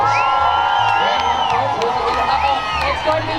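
A crowd at the San Diego County Fair cheers and whoops on teams during a race, a dense, continuous roar of shouting voices including children, with some talk mixed in.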